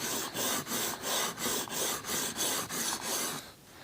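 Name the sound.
knife sharpening on coarse diamond grit stone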